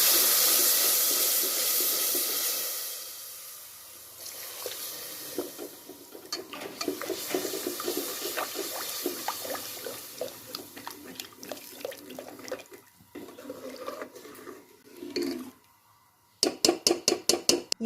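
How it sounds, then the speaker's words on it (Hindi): Water pours into a hot pan of chicken nihari masala cooking with red chilli powder, giving a loud hiss that settles into a sizzling, bubbling simmer with scattered stirring clinks, then a few sharp taps at the end. "इसमें थोड़ा सा ये पानी डालूंगी।"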